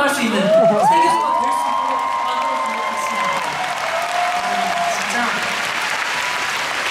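A large concert crowd at an encore show in Seoul applauds and cheers loudly. Whoops and high-pitched screams rise over continuous clapping that stays strong throughout.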